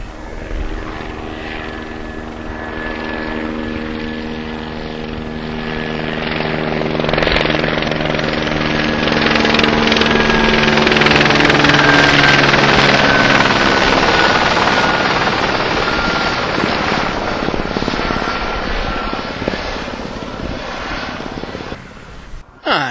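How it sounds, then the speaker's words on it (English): A police helicopter sweeps low overhead in a Welsh valley, its rotor chop building from a distance to a loud throbbing peak, then slowly fading away. "Just had the police helicopter swoop over the top."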